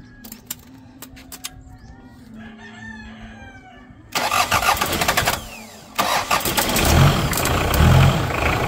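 A Mitsubishi Pajero, long unused, cranks and starts off a portable jump starter, its engine catching loudly after quieter sounds and running rough and sluggish to the end, with rooster crows nearby.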